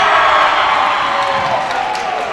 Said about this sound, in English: The Summit crowd's livid.